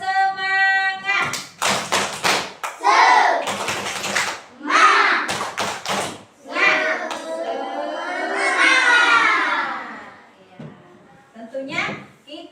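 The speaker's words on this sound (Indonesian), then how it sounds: "Coba kita tepuk semangat dulu." A classroom of children performs a rhythmic spirit clap, chanting loudly together while bursts of sharp, patterned hand claps alternate with their voices.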